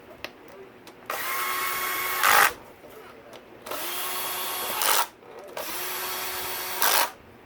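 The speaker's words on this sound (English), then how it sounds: "I'll start with my old trusty Black & Decker." Black & Decker power drill driving bolts on a KTM 450 SX-F dirt bike during starter clutch repair, three sustained whirring bursts of about one second each, close and loud, separated by short pauses, each ending with a brief rising strain.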